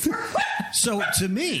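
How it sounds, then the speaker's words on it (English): A pet dog barks at the neighbor's dogs, giving a few sharp yips and barks in quick succession that overlap someone speaking close by. "that's my dog's barking at the neighbor's dogs."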